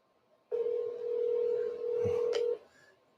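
A single steady telephone tone sounds for about two seconds, loud and close, then cuts off, with a brief click partway through.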